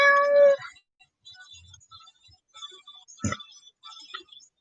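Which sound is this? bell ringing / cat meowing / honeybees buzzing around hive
cat meowing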